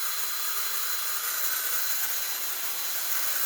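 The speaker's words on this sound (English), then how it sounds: "My drill." A steady, high-pitched mechanical whir runs unbroken throughout, loud and close, like a power tool spinning continuously.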